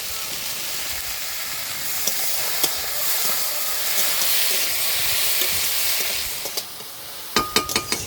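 Chopped potato and okra fry in a pan with river crab, giving a continuous loud sizzle and hiss that swells midway and ends with a few sharp pops and crackles.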